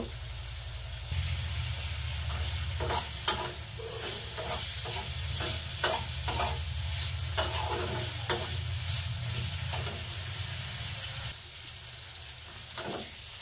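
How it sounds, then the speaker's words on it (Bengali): Masala spice paste for a prawn dish with mustard and poppy seed sizzles as it is stir-fried in a pan. A spatula scrapes and taps repeatedly over a low background hum, with no talking. "এবার মশলাটাকে সুন্দর করে কষে নেব।"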